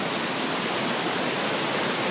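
Steady, loud rush of water from a waterfall at Krok E Dok falls, a dense broadband roar filling the whole clip up close with no voices.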